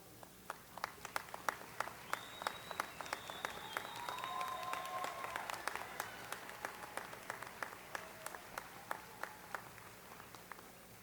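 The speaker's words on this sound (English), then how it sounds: "Families, all of you, please stand so that the graduates and we can applaud you." Audience at a 2015 winter university commencement applauds graduates' families, sustained clapping with sharp individual claps standing out over a steady crowd wash, some voices faintly underneath.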